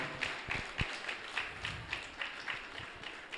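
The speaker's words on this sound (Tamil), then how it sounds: "நிச்சயமாக அவங்களுக்கு ஒரு பெரிய கரகோஷம் கொடுக்கணும்." An audience at a devotional programme in Mylapore, Chennai, claps in a light, fairly regular patter, moderately distant and fairly quiet.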